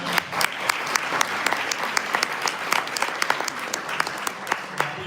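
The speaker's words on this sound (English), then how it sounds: "give her a round of applause one more time" An audience at a community trustee gathering in the village of Dolton gives a speaker a steady round of applause, moderately loud, with crisp individual claps standing out in the crowd.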